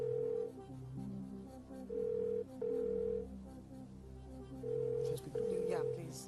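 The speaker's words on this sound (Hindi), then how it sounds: "जावेद साहब को फोन प्लीज लगा दीजिए" An outgoing phone call rings on a TV quiz show set, with a repeating pattern of paired electronic ring tones separated by short pauses under quiet background sound.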